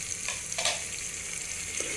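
Garlic and ginger frying in a pan, a continuous bright sizzle with a few soft scraping stirs, close and steady, no talk.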